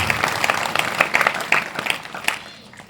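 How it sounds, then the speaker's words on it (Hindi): An audience at a religious gathering with a saint claps in a dense, continuous burst of applause that fades toward the end, with some voices mixed in. "एक बार इनके लिए जोरदार ताली बजा करके अभिनंदन।"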